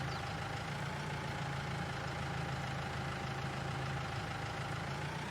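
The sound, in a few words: New Holland tractor engine in Farming Simulator 22 video game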